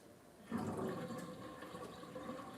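Water gurgles and rushes down the drain of a full kitchen sink, a steady near wash of flowing water that swells in and continues without pause.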